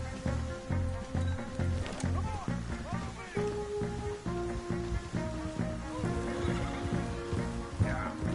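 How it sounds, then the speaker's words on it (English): Horse neighing in Red Dead Redemption 2, a couple of whinnies amid a busy game scene with steady hoof clip-clop and rain-like patter, while someone talks over it. "Aided by my horse."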